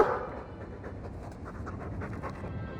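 Close, rapid panting from a dog in a video game, quick rhythmic breaths running steadily for a few seconds with no talking.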